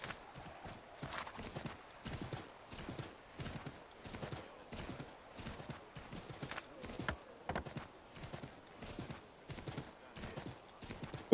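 Horse hooves clip-clop steadily in Assassin's Creed III, a brisk rhythmic trot of sharp hoof strikes throughout, fairly close with light ambient game noise.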